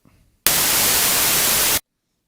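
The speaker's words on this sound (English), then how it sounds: "It's just white noise" A burst of loud, flat white noise sample from an Akai MPC One hisses for over a second, starting and stopping abruptly with silence around it.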